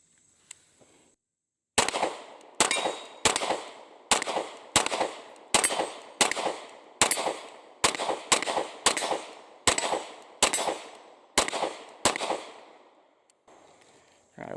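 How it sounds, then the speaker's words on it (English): Beretta APX A1 pistol firing outdoors, about fifteen loud, sharp shots in a steady paced string, each with a short ringing decay, followed by quiet. "We've already got our mags loaded up, so let's go ahead and take some shots with her and see how she's rolling today."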